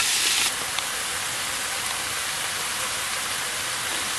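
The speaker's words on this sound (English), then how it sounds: "We're going to sear this side really hard." Scallops searing hard in extra light olive oil in a nonstick pan, a loud, steady hiss and crackle that stays continuous throughout, briefly stronger at the start.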